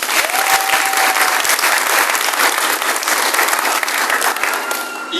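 A church congregation at a religious thanksgiving celebration breaks into loud, dense applause that stays sustained and even for several seconds before easing slightly at the end.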